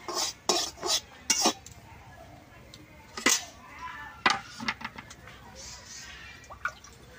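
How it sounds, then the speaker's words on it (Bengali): Milk poured into fried semolina in a pan and stirred in, with quick metal clinks and scrapes against the pan at first, then softer wet stirring and dripping, close and moderately loud. "এখন আমি দুধটা দিয়ে দিই।"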